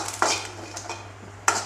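Biryani ingredients, including bay leaf, cloves and cardamom, are stirred in a pot with a metal spoon, giving a few sharp scrapes and clinks against the pot at an irregular, unhurried pace.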